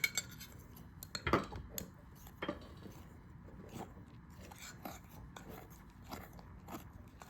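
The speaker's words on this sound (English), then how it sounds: "Now we're just going to add those liquids into the dry ingredients." Utensil scraping and clinking in a bowl as liquids are mixed into dry ingredients for a microwave protein chocolate coconut cake, with one louder clatter early, then soft intermittent scrapes, fairly quiet and close.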